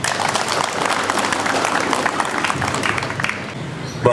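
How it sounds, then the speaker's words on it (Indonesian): An audience claps, a dense, continuous burst of applause close by that tapers slightly toward the end, with a faint voice underneath. "Ya, tepuk tangan dulu."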